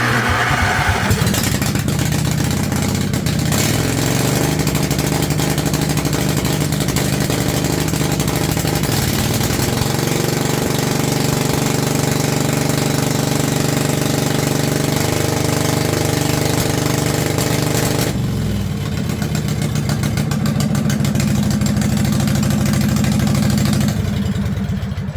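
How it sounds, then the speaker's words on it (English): A homemade pull-behind mower's small engine running slightly choked with no muffler, a loud, raw, continuous idle with a rough knocking texture that drops in intensity toward the end. "Sounds like a derby mower right now, but there's a muffler over there"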